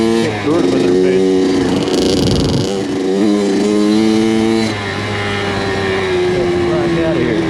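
A Kawasaki KX100 dirt bike climbs through the hills, its engine droning loud and close with steady revving pitch shifts and a brief harder surge, while a voice talks over it.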